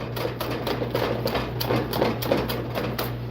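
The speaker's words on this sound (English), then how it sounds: "I like to actually use the whisk to start breaking down some of the cranberries now" A whisk crushing cranberries in a large simmering pot, a fast, steady rattling and clicking against the metal, close and continuous with a low hum beneath.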